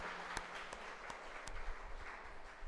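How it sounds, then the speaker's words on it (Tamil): Church congregation clapping hands in praise during a Tamil Catholic service, a soft distant patter of applause with a few sharper individual claps standing out. "கைத்தட்டி ஆண்டவருக்கு மகிமைப்படுத்துவோம்."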